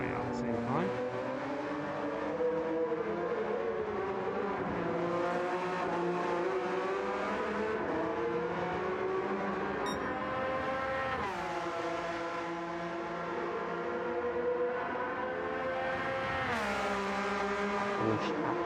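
Race cars including a Porsche at the Le Mans endurance race, several engines screaming down the straight at once with rising and falling pitch as they pass. Commentary runs over the noise.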